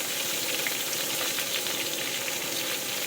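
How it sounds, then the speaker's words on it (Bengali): Pieces of pointed gourd and potato with turmeric and salt fry in a pan, giving a steady, dense sizzle that stays close and unbroken, with no voices. "সুন্দরভাবে একদম ভাজবো একসঙ্গে পটল আলু"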